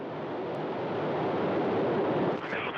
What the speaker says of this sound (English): Boosters igniting, the engines firing.